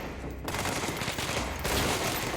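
Dense, continuous gunfire rattles in a video game, a steady barrage of overlapping shots at moderate volume that intensifies briefly near the end.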